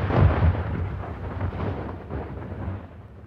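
Musket volley fired on command in a historical reenactment at Concord, a loud, close, rumbling blast that booms and rolls away over a few seconds.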